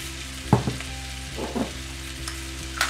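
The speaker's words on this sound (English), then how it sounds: "Give it a stir." Garlic shrimp scampi sizzles in a pan while being stirred, with a steady frying hiss and a few short scraping bursts of the spoon up close.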